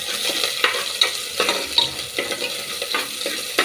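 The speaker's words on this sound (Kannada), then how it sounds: "ಜೊತೆ ನನಗೆ ಸ್ವಲ್ಪ ಆನಿಯನ್, ಸೊ ಇದೆಲ್ಲ ಹಾಕಿ ಫ್ರೈ ಮಾಡ್ಕೋಬೇಕು." Onion and curry leaves frying in a pan while being stirred, giving a steady close sizzle broken by regular scraping stirs and light clinks of a spoon against the metal.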